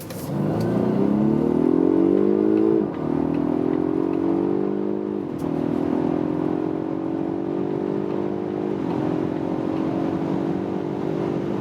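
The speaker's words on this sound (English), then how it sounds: "we do a flying start from 30 kilometers an hour, and guys, wait for that" Polestar 1 plug-in hybrid accelerating hard from a 30 km/h rolling start, its engine note climbing in pitch through three upshifts, loud and close inside the cabin with no talking.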